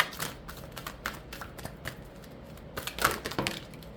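Oracle cards being shuffled by hand in a quiet room, a run of quick papery riffles and soft slaps coming in uneven bursts, close and fairly faint, with no voices over them.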